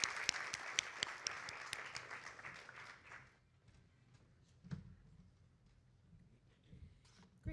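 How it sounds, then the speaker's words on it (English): An audience at a pitch competition held at a summit applauds with a dense burst of clapping that lasts about three seconds, then quickly dies away into a near-silent room with only a few scattered stray claps. "Let's give one more round of applause for Ashley."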